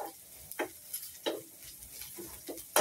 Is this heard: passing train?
no